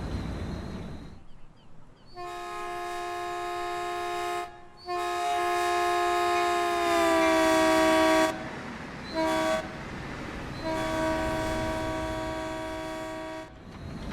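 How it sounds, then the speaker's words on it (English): Caltrain locomotive horn in Train Sim World 2020, several long loud blasts of a multi-tone chord with short gaps between them, running over a low rumble of the train. "If you're blasting the horn like that the entire time."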